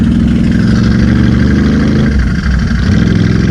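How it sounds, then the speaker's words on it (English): A Can-Am Renegade ATV engine runs loud and close with a steady mid-pitched roar, dipping briefly before picking back up, as the rider tests the clutches out in the Glades; no one speaks over it. "Testing out the clutches."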